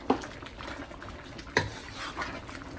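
Khoa is stirred into a pot of carrot halwa, with two distinct clunks of a utensil against the pot over a soft, thick bubbling and scraping background.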